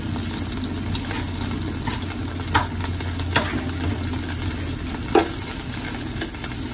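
Garlic frying in a pan gives a steady close sizzle, with a few brief louder clicks and stirring scrapes and no talking.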